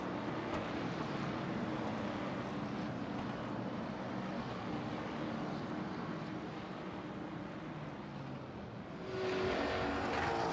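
Race cars circle the asphalt oval at New Smyrna under the pace car, a continuous engine drone that swells near the end as the field passes closer.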